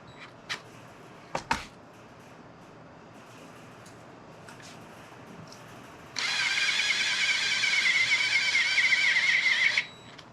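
A drill bores into the intake of a Ford 8BA flathead V8: a few sharp knocks and clicks, then one steady, whining run of about three and a half seconds that stops abruptly. No one speaks.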